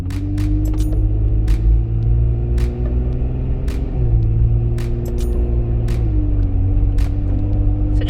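A Jeep Wrangler JK on 37-inch tires with stock 3.21 gears, driving under strain: a loud, steady low engine drone with a couple of pitch drops as it shifts, plus occasional light ticks, with no talk.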